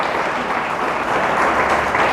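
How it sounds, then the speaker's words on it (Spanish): A church congregation bursts into strong applause praising God, a dense, steady wash of many hands clapping at close range that swells slightly toward the end. "Denle fuerte el aplauso a Dios"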